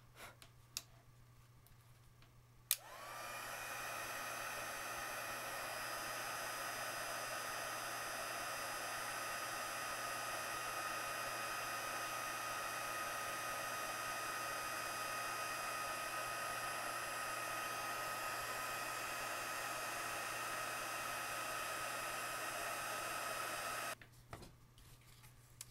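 A heat tool melts embossing powder for an emboss resist with glitter, its steady fan-driven whoosh switching on abruptly and running evenly for about twenty seconds before cutting off, close and constant with no talk.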